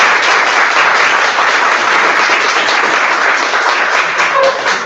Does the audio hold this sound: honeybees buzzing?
no